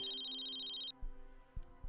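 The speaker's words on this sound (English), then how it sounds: "Phone ringing." Phone in the video game Tales of the Neon Sea gives a steady electronic trilling ring for about a second, then stops, followed by a few soft low thuds.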